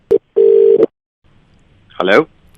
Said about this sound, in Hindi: फोन मिलाओ रिति।